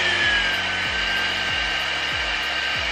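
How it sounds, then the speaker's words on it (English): A GHD Duet hair dryer-straightener dries fine, medium-length hair with a loud, steady rush of blown air, overlaid by a low ticking or rattling that repeats roughly twice a second. "So while it's still drying, I'm going to press the shine shot button for 4 seconds."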